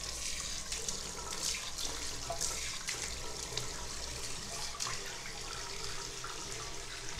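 Tap water runs steadily and loudly at a sink while coffee powder face pack is rinsed off, a constant close rushing broken only by faint splashes.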